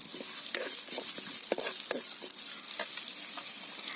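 Green chillies frying in a pan under steady stirring, a continuous hiss of hot oil broken by repeated spatula scrapes and taps, close and moderately loud.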